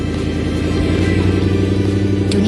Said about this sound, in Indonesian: ada truk polisi biru yang gagah dan truk derek merah yang sedang sibuk melaju di